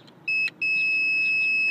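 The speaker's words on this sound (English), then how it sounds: "Beep means good." A multimeter's continuity test on HVAC fuses gives a steady high-pitched electronic beep that sounds briefly, cuts out, then returns and holds continuously.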